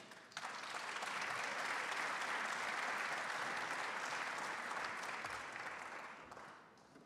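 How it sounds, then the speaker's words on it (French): Sustained applause from a sizable audience at a panel discussion, steady and full for several seconds before tapering off at the end. "pour cette table ronde sociale, je vous demande d'applaudir Jacques Gers, Emma Reynin, Michel Le Sieur"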